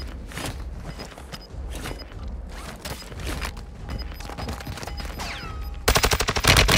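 A light machine gun firing in Call of Duty Warzone, with scattered shots and footsteps building into a loud, close, rapid automatic burst near the end.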